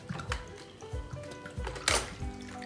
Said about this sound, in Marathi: आपलं पाणी टाकते